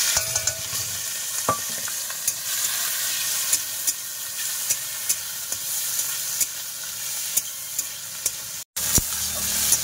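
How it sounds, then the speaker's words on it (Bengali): Prawns frying in oil in a wok, a steady close sizzle with regular sharp scrapes of a spatula stirring every second or so, no talk. "চিংড়ি মাছগুলো ভাজবো এবার।"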